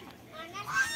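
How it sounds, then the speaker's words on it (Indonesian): A large, fat goose at a holiday villa in Pandeglang, Banten gives a short, loud honk that rises near the end. It is close to the microphone and brief. "Didatengin angsanya langsung teriak-teriak ya."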